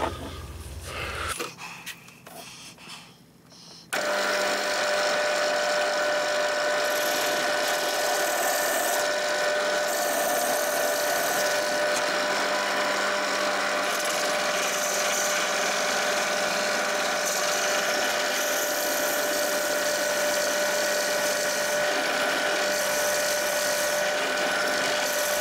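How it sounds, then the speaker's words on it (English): Power drill boring out the centre of a pot, a steady high whining grind that runs continuously after a brief quieter start, moderately close with no talking. "we're going to drill the centre out"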